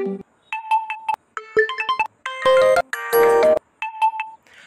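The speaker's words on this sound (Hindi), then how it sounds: "जितनी भी रिंग हैं वो आपको यहाँ से सुनाई दे रही हैं" Several short phone ringtone melodies play one after another, bright electronic beeping tones in brief bursts separated by short silences.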